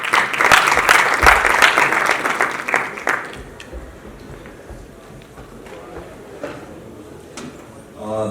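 Audience applause at a tech summit after a team presentation, a loud burst of many hands clapping for about three seconds that then drops away into quieter room noise and murmuring, with talking heard in the clip.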